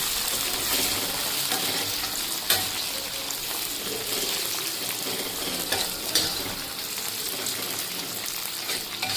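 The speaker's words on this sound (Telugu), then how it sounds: "ఈ లోపల కిస్మిస్లు బాగా ఫ్రై అవుతున్నాయి చూడండి" Raisins frying in hot fat for ukkirai prasadam give a dense, continuous sizzle that holds steady and close throughout, with a couple of brief utensil knocks and occasional stirring.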